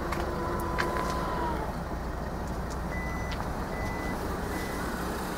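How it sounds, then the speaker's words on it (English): The power liftgate on a 2015 Ford Escape Titanium operates with repeated electronic warning beeps, steady tones sounding over a constant low motor hum. "Power liftgate."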